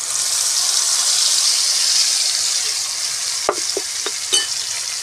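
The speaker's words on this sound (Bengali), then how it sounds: "মশলাটা ভালো করে তেলের সঙ্গে ভেজে নেব" Spice paste for a black chickpea curry fries in hot oil with a loud, steady sizzle throughout, broken near the end by a few close scraping stirs.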